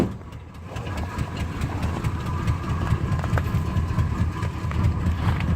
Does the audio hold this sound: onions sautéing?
no